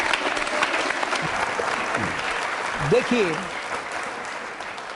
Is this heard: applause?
yes